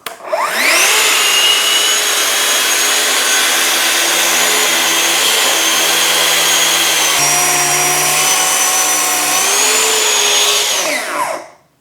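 Festool TSC 55 cordless track saw with a fine tooth blade cutting along a rail, a loud steady high whine spinning up, holding for about ten seconds with a slight pitch dip midway, then winding down.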